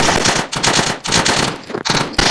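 Loud, rapid pistol fire in the Roblox game Toilet Tower Defense, with dense repeated bursts of shots and short gaps between volleys, close and with no talking.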